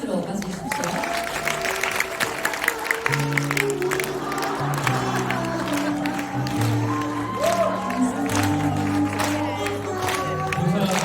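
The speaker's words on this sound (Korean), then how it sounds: "대구의 김현중 이사님 큰 박수로 맞이해 주십시오." A seminar audience applauds as a company director is introduced, with scattered clapping and a few cheers under a speaker's voice while music plays in the background.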